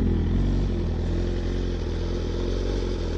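A BMW S1000RR superbike engine runs steadily and loudly at close range in a Harley dealership, a continuous mid-pitched drone with no talk over it.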